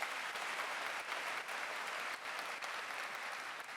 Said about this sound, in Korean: 수상자들에게 다시 한번 큰 박수 부탁드립니다.